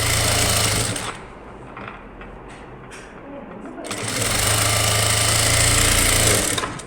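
A sewing machine stitches a Baahubali-style blouse sleeve in loud, fast, buzzing bursts that stop for about three seconds in the middle and then resume, heard close up.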